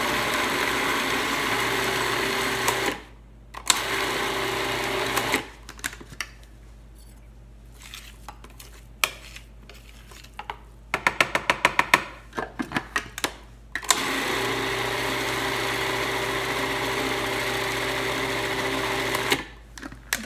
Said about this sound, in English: So let's get this processed.